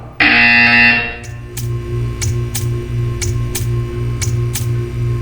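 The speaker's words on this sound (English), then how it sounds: "You will hear a buzzer." A loud, harsh buzzer from Portal 2 blares for about a second, followed by a steady electronic hum and a regular series of sharp clicks or ticks.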